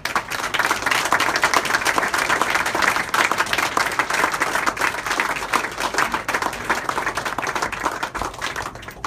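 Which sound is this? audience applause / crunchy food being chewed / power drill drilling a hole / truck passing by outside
audience applause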